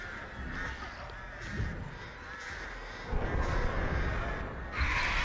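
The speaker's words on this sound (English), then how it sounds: "Three birds just to guarantee that hit." Crows caw in the Dead by Daylight horror game, several harsh repeated calls that rise and fall over a background of game ambience, moderately close, with no talking.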